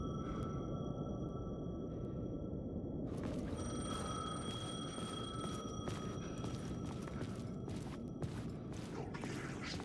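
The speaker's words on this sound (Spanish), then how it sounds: "El teléfono sonó." A telephone rings in the video game Alan Wake 2, with repeated electronic ring bursts starting a few seconds in over a low, dark rumbling ambience and continuing throughout.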